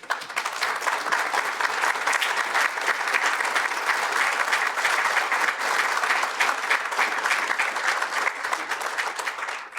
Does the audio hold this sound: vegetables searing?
no